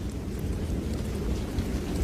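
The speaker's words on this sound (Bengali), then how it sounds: "সঙ্গে ঝোড়ো হাওয়া আর টিপটিপ বৃষ্টি" A dense, low rumbling roar of a storm, with gusting wind and light drizzling rain blending into a steady wash of noise.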